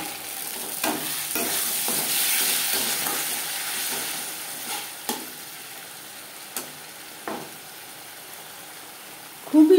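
A spatula scrapes and stirs spices with onion and tomato in a frying pan for a Bengali small bata fish jhal, with a steady sizzle and irregular knocks of the utensil against the pan, close and continuous.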